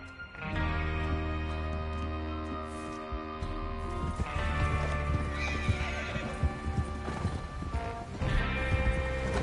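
Horses galloping in the Red Dead Redemption 2 video game: loud, close clip-clopping hooves with repeated neighs and whinnies, and bursts of movement throughout; no speech.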